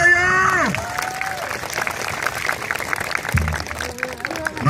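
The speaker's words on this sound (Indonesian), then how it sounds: "tepuk tangan bareng-bareng yuk" An outdoor reog performance crowd claps along with scattered cheering, while tonal instruments and a voice sound over the clapping.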